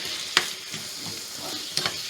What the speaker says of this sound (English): I'm going to stir these up, and then I'm going to cover it and let it cook until it is nice and soft.